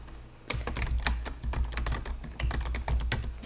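Rapid typing on a computer keyboard while entering text in a Squarespace editor, a dense run of close, clicky keystrokes with short pauses and no talking.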